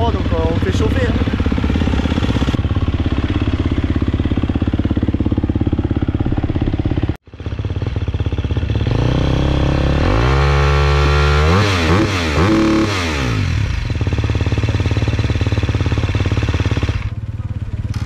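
A race motorcycle engine warming up from cold runs and revs repeatedly, rising and falling in pitch, loud and close, with a sharp break partway through.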